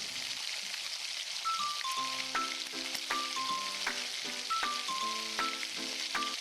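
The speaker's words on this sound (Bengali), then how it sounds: "এরপর আমরা গ্যাসের ফ্লেমটা মিডিয়ামে রেখে ভালো করে ভেজে নেব পুরোটা।" Chopped onion and capsicum fry in a pan over a medium gas flame for restaurant-style chilli paneer, a constant soft sizzling hiss under light plucked background music.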